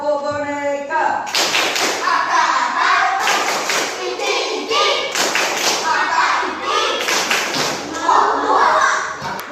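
Children clap together in a "tepuk boneka" clap game at school, loud rhythmic bursts of claps mixed with their chanting voices, close and energetic throughout.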